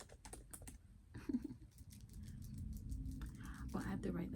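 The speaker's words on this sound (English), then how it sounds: "that's really why I'm just typing so much" Someone types quickly on a computer keyboard in soft rapid bursts, close by, while a person talks over the clicking.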